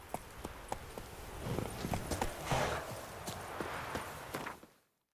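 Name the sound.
horse galloping, from video game The Witcher 3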